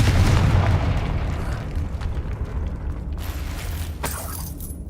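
A Confringo fire spell explodes in Hogwarts Legacy: a loud, deep boom at the start that rumbles and slowly fades, followed by a few small crackling bursts toward the end.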